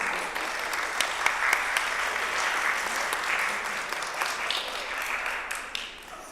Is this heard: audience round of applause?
yes